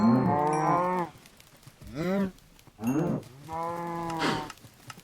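Cows on a Minecraft automated farm let out four drawn-out moos in succession, each rising and falling in pitch, separated by short quiet gaps and sounding clear and close.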